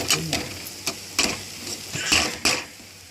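Chicken goes into browned masala in a pan, giving a run of short scraping and stirring bursts over a low sizzle, close and moderately loud.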